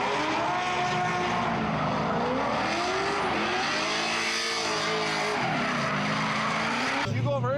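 A car drifting on a track at a pro drift event, engine revving and wavering in pitch while tires squeal loudly and continuously, close and intense, ending with an abrupt change near the end.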